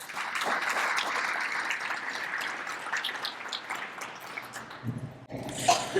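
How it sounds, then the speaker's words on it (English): Applause from an awards ceremony audience fills the room, a steady mid-distance clatter of many hands that thins near the end before a brief burst of other noise. "let's give him a round of applause"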